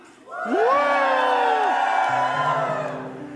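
A church congregation at a worship service gives a loud, sustained shout for joy. Cheers, whoops and rising yells swell together and hold for about three seconds, with a few voices still ringing out as the shout tails off.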